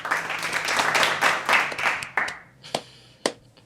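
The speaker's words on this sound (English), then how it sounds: "All right, round of applause." A small audience claps in a brisk burst that tapers off into a few last scattered claps, near and fairly loud.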